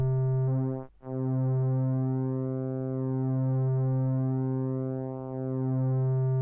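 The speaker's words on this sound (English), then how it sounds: "This is modulating the width of the pulse." A buzzy synthesizer oscillator tone holds one pitch while pulse width modulation sweeps its timbre back and forth, a short dropout early on, steady and alone.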